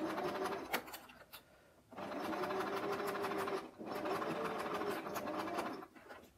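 A sewing machine stitches fabric in quick, close mechanical bursts, pausing briefly between runs while the cloth is turned for a corner, then resuming at the same steady pace.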